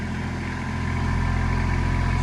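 A tractor engine drones loud and steady at close range while straining to lift a heavy bale, with a constant low throb and no break.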